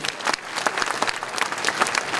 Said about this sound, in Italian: come Paola Pelino, un applauso per lei